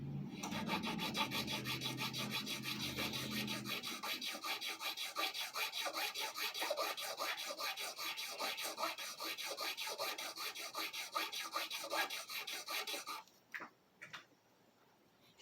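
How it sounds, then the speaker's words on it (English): A file grinding down parts across all six strings on a Hondo 2 classical guitar during a setup, giving a loud, close, rapid rasping rhythm that runs continuously before stopping near the end, leaving faint handling sounds. "Just file this down all the way all through all 6 of them."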